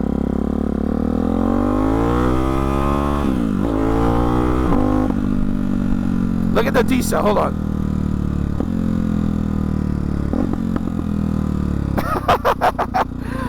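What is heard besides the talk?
engine exhaust popping and idling, Hyper 698 S1 exhaust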